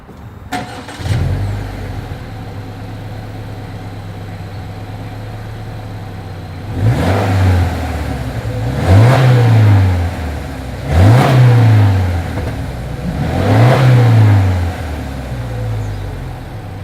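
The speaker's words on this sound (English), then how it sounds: "As always, here is that exhaust clip." A 2020 Subaru Legacy XT with dual exhaust starts, idles, then revs four times in a regular pattern, each sharp climb and drop in engine note heard close and loud.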